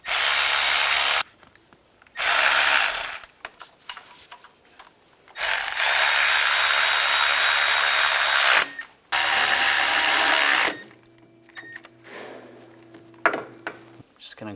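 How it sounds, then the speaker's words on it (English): Power tool driving and tightening engine bolts on a 2005-2007 Ford Five Hundred during oil pressure sensor replacement: several loud, close bursts of drill-like whirring lasting a second or several, separated by quieter pauses with faint clicks. "Now that all the bolts are in, we'll tighten all these down."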